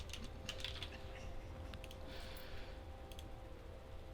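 Computer keyboard typing during a Guild Wars 2 session, quick irregular clusters of key clicks close up, fairly quiet over a low steady hum, no talking.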